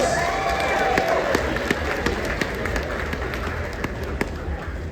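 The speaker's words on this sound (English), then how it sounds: "give them a round of applause." Audience at a convention closing ceremony breaking into steady, dense applause and cheering that fills the room, with scattered sharp claps standing out over the crowd noise.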